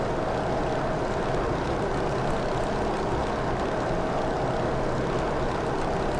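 A Grumman F3F biplane's radial engine drones steadily in flight in Microsoft Flight Simulator, with a constant, moderately loud propeller hum and no talking.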